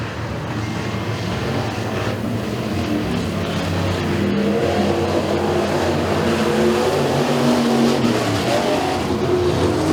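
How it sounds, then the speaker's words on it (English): Race cars in a heat race at a motorsports park, a dense continuous engine roar from several cars at once, rising and falling pitch as they accelerate, steady and fairly loud without talk. "As Cameron Kramer seems like is the faster car out there right now"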